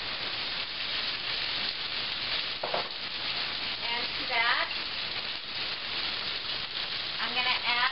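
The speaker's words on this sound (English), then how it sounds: "There's going to be a sizzle." Peppers and onions sizzle steadily in oil in a cast iron skillet, a loud continuous frying hiss with occasional stirring, while someone talks briefly over it.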